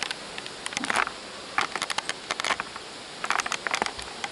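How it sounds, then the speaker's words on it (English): Honey bees buzz and bump close by inside a hive in short, scattered bursts with soft tapping, rising and falling without any talk. "We have bees thriving and bumping along underneath here."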